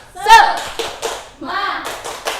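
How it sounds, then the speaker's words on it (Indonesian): Children clap a rhythmic classroom cheer, quick bursts of hand claps mixed with their shouting voices, fairly close and loud in a school room. "coba tepuk semangat yang keras ya"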